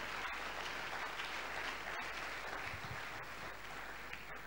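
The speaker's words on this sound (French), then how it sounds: "Et nous acclamons bien sûr parce que c'est une bonne nouvelle" A church congregation applauds steadily, a dense and even wash of clapping from many hands that holds for several seconds at a moderate distance and does not swell or fade, with no talking over it.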